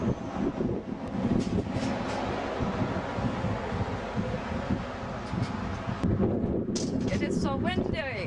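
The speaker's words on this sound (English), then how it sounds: "It is so windy" Steady, blustery wind roars and buffets the microphone throughout, with a voice talking over it near the end.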